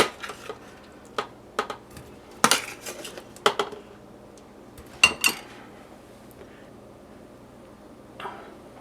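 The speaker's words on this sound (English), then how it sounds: "I'm going to put them in my 1970s original rival crock pot. And I'll put the meatballs in here." Meatballs being placed into a 1970s Rival crock pot, with scattered metallic clinks and scrapes of utensil against the pot, close and intermittent over a quiet background hum.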